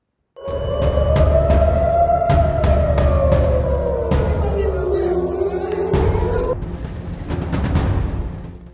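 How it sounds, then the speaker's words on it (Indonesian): An air raid warning siren in Israel during a Houthi missile attack rises and falls slowly and steadily, loud and sustained over a rumbling background with sharp bangs or clicks. "Serangan memicu sirine tanda bahaya yang terdengar di sejumlah wilayah."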